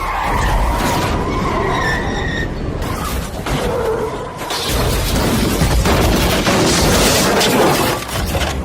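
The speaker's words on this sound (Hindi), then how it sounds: "अचानक पता नहीं कहां से एक ट्रक डिसबैलेंस होकर आई" A truck skidding out of control and crashing, staged as a dramatic sound effect in a Hindi horror story: loud, sustained roaring and scraping noise with sharp impacts and crunching bursts, dense and chaotic throughout without any talk.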